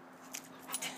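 A dog lets out a couple of soft, muffled barks, closer to quiet yips or whimpers than full barks, over a low steady hum.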